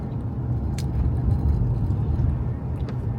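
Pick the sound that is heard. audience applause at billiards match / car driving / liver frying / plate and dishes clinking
car driving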